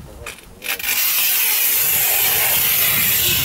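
A Sigma tile cutter slices a large-format tile with a steady, loud, hissing grind that runs on without a break after a couple of brief scraping strokes.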